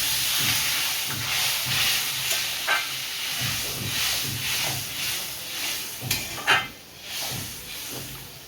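Water poured into a pan of sizzling fish-roe curry gives a loud, steady hissing sizzle with steamy bubbling and a few sharper bursts near the end, no talking over it.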